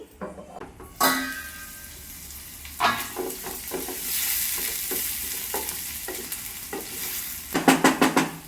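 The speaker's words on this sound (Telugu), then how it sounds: "క్యాప్సికమ్ వేస్తున్నాను. ఫ్లేమ్ కొంచెం తగ్గించాను, మూత పెట్టానండి." Chopped capsicum dropped into a hot pan and frying, a loud sizzle with scattered clinks and scrapes of a utensil, then a lid settling over the pan and quick rattling knocks at the end, close and without talk.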